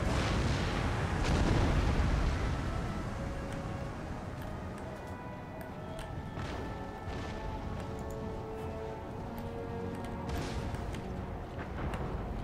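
Booming cannon fire from an artillery battery in Empire Total War rolls out as a heavy low rumble that fades, with further shots thumping in the distance under a continuous battlefield din.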